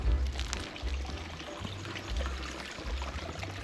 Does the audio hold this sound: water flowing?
yes